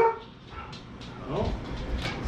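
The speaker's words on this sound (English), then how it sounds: "it was only two barks, so it wasn't bad" A dog barks inside a truck, a couple of short yips and barks rising over a quiet background with faint voices.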